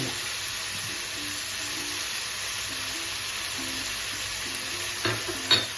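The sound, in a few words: stirring sizzling prawn pulao masala with coriander and mint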